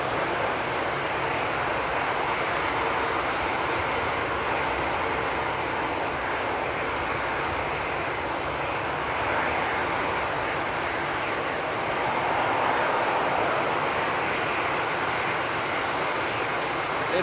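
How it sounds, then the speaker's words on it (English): Steady, broadband roar of airliner jet engines idling and taxiing nearby at Frankfurt Airport on a winter morning, a continuous rumbling hiss that swells slightly toward the end. "All the noises from the engines, planes waiting."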